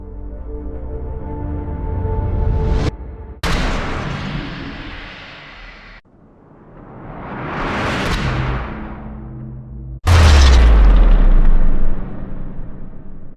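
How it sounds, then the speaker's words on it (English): Explosion impact samples auditioned one after another in a music production setup: several booming blasts with deep low-end rumble and decaying tails, one swelling build and a heavy sub-laden final hit, loud and isolated. "We have explosions in here."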